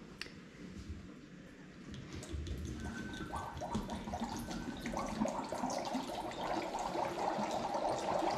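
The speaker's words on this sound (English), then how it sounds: "We are going to pour the potion bottle in" Water pours steadily into a small toy cauldron, a bubbling, splashing trickle that grows fuller and louder as it fills.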